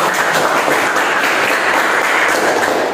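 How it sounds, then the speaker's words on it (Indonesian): A classroom full of students applauds each group, with dense, loud, continuous clapping held at the same level throughout and no voices. "tepuk tangan dulu ya untuk masing-masing"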